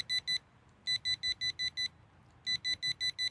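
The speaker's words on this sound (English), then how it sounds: "it will beep a number of times to let you know what sensitivity you've got it on" A Rippton Bitekeeper Pro fishing bite alarm beeps out its sensitivity setting in sharp, high electronic bursts. It gives four quick beeps, pauses, then five, then a further run, all clear and close in a quiet room.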